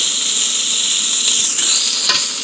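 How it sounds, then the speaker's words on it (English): Onions, bell peppers and jalapenos sauteing in a pan: a steady, loud, close sizzle with a faint rise in crackle partway through, and no talking. "you're just gonna saute this for a good 2 minutes"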